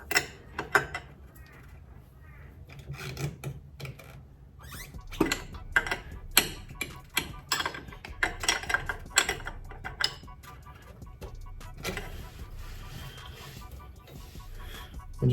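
Ratchet wrench with an 18 mm socket snugging fittings on an engine build, bursts of quick metallic clicks and taps, close, with someone talking over parts of it.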